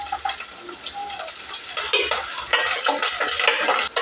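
Onion and curry leaves are stirred in a pan for a sambar of sprouted green gram, with clinking utensil scrapes and a soft sizzle, close and steady.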